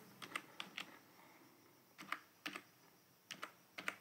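Quiet typing on a computer keyboard while writing a document in Microsoft Word, short clusters of soft key clicks separated by brief pauses, close and alone against faint room hiss.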